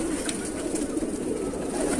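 Pigeons coo softly at a breeder's loft in Bareilly, Uttar Pradesh, a low murmuring burble that carries on steadily for two seconds amid faint background noise.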